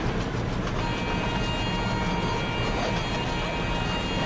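The Koyna Express 11030, simulated in the Open Rails train simulator at about 105 km/h, makes a loud, steady rail rumble with a continuous rolling drone and faint clatter, and no one speaks.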